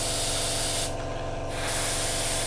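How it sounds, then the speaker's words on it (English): An airbrush sprays Tamiya XF19 paint onto the seams of a Hasegawa 1/48 Draken model kit: a steady close hiss with a brief dip in the middle, no talk. "So we're just going to spray the seams"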